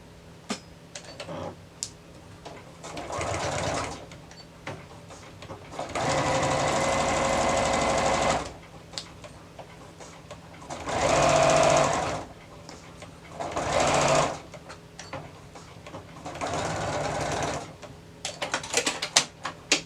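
A sewing machine stitches the lining of a corset in several separate bursts of steady running, each a few seconds long, with quiet handling noises between runs and no talking.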